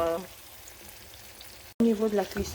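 A Tunisian sauce simmers and sizzles softly in a pan, a faint steady crackle running beneath a voice that stops briefly and then resumes.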